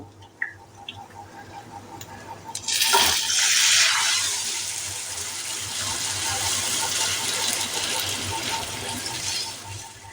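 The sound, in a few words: moong dal added to the pan for moong potol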